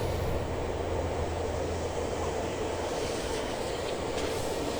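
A steady, broad rumble of a Via Rail passenger train rolling past a wakeboard park in Ontario holds evenly for several seconds at moderate distance, with no talking.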